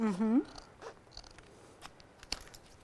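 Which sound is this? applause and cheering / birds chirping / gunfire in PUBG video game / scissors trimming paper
scissors trimming paper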